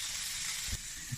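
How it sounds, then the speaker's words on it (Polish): Bell pepper dry-frying in a pan without fat gives a steady, broad sizzle that stays even and close throughout, with a couple of soft low bumps from the pan. "zgrillujemy ją na tej patelni, bo to bez tłuszczu"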